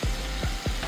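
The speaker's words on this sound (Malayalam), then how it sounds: "ഇനി നമ്മളെ പൊടി ഐറ്റംസ് മൂപ്പിക്കും കേട്ടോ" Turmeric and pepper powder fry in hot oil in a pan, a steady close sizzle with a few quick stirring swishes.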